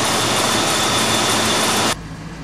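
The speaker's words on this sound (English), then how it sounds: "I'm going to go ahead and drive it around a little bit, warm up that transmission" A 1995 Ford Crown Victoria engine runs loud and close with a steady broadband roar, then cuts to a quieter hum near the end.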